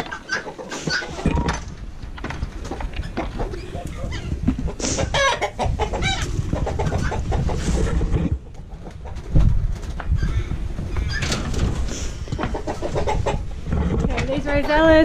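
Chickens cluck and crow inside a homestead coop, a busy, close flock calling continuously while a person speaks now and then.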